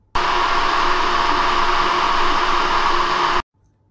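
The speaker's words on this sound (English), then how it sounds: "And the PSU is extremely loud." A loud, steady whooshing hum from the power supply of a Prusa MK3S clone 3D printer, running without a break for about three seconds and then cutting off abruptly into silence.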